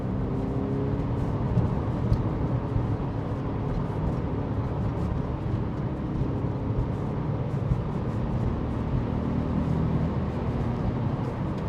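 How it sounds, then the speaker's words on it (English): A Porsche 911 with a Tiptronic automatic gearbox, shifted into manual mode, drops down through the gears while driving. Its engine gives a steady, full drone with road rumble that stays even and unbroken throughout, with no talking. "drop a gear down from 5th to 4th, we'll go down one more down"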